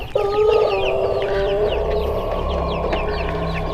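Pelung chickens on an Indonesian village farm, kept in pens with hens and roosters, give a loud, close, drawn-out crow, with fainter clucking and other birdsong behind.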